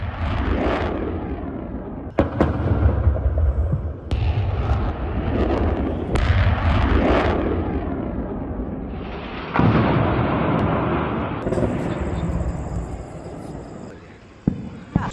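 Missile strikes hit Nur Khan (Chaklala) airbase in Pakistan, a series of about five loud, heavy booming blasts roughly two seconds apart, each rumbling out before the next.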